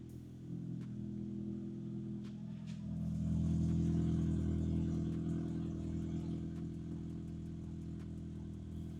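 Toyota GR86 fitted with a single exit catback exhaust idling after startup, a deep steady low drone that swells briefly, then settles back to an even rumble.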